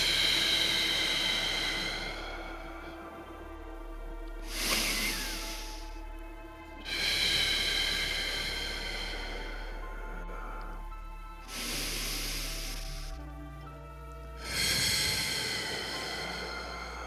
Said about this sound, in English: Let's take 3 nice deep breaths to facilitate this need.